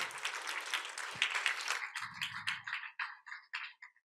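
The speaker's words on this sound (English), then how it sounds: "So another round of applause, please, for these fabulous graduate students." A brief, light round of clapping from an audience at a graduate student lightning-talk event, fairly quiet and thinning out into scattered claps as it fades.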